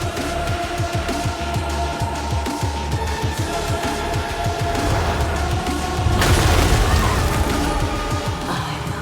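A relic power explosion in the Soulstice video game, heard as a dense, continuous rumbling blast with crashing debris that swells louder around the six-second mark and then sustains, loud and close, with no talk over it.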